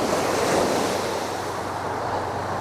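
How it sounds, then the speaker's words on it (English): Ocean waves break on the sand at a harbor, a continuous loud wash of surf with wind noise and no voices. "Here's a guy just sitting on the sand, just letting the waves get him."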